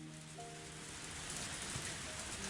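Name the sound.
heavy rain in Higurashi video game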